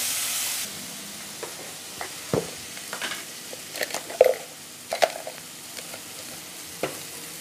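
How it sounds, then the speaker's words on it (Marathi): Ginger, green chilli and garlic paste sautés in a pan, a soft sizzle under scattered scraping stirs and clinks of a spoon against the pan, close by, with no talking. "आता हे आलं, मिरची, लसूण जी आपण घेतली होती त्याचं मी वाटून पेस्ट केलेली आहे ती घालूया। ती थोडीशी परतूया।"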